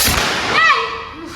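A Deepavali firecracker bursting outdoors, one sharp loud bang that rings on with a whistling, fading tail.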